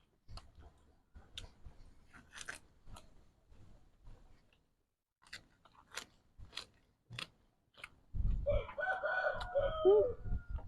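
A fighting cock kept caged under a woven basket crows once near the end, fairly close and loud, after a stretch of faint scattered clicks and rustles.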